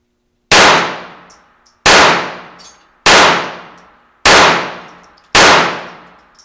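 Five loud, sharp pistol shots ring out at steady intervals of about a second on an outdoor shooting range, each crack followed by a ringing metallic clang from steel targets.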